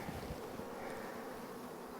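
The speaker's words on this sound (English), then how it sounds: "all the bees are starting to come back already" Honeybees swarm in a dense, steady buzz around an opened, taken-apart hive with no frames inside, a continuous close drone without pause.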